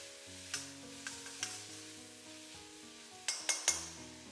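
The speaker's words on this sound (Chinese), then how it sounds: "快速翻炒， 炒出酱香味" Pork belly, garlic stems and soybean paste are tossed in a wok, a steady sizzle running underneath while the spatula scrapes and clanks against the metal several times, with a cluster of sharper clinks near the end.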